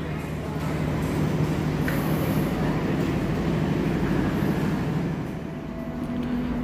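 A Lodaya night passenger train at a station rumbles steadily, with a continuous low mechanical drone and hiss and a brief high whine partway through.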